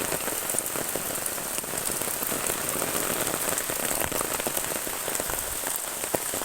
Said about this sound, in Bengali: এই যে বৃষ্টি হইতেছে, অনেক সুন্দর একটা পরিবেশ